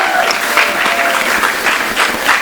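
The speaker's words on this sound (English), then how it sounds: "Big cheer for bookstores" A crowd at a local bookstore author event cheers and applauds for bookstores, with loud, dense clapping and whoops filling the room continuously from start to finish.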